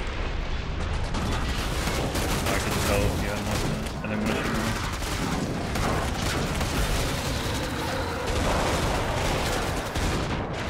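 Rapid, overlapping gunfire from a Killing Floor 2 match, loud, near and nearly continuous for the whole stretch, with the bursts running together into a dense crackling barrage.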